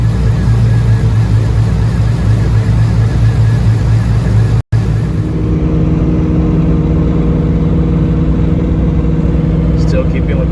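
Steady engine drone from a 1998 Pontiac Trans Am Formula with true dual exhaust, cruising at about 2,500 RPM with the air conditioning on, a continuous loud low rumble close by, with one brief dropout partway.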